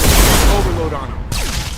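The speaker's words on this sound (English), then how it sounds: "Shotgun! Got him." A loud shotgun blast booms in Mass Effect Legendary Edition, a heavy close shot with a decaying tail and a second impact near the end.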